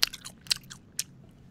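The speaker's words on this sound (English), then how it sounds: "Chewing in people's ears." Someone chews right up against the microphone, making a few crisp, crunchy bites at irregular intervals, each followed by softer mouth sounds. Nobody talks.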